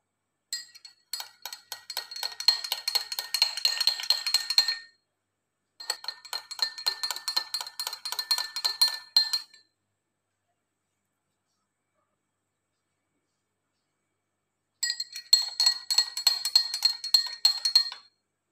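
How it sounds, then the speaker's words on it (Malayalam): Spoon stirring aloe vera, ginger and lemon juice in a glass, producing rapid rhythmic clinks in three bursts separated by silent pauses, close and clear with no talking. "നന്നായിട്ടൊന്ന് മിക്സ് ചെയ്ത് കൊടുക്കാം."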